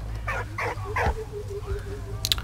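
A dog whimpers and whines in the Valiant Hearts video game, with a few short yelping cries followed by a thin drawn-out whine over a low steady game background hum.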